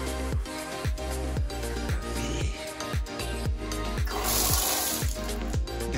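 Water runs steadily from a household tap in a house in Kigali, Rwanda, a loud, close, continuous gush splashing into a basin.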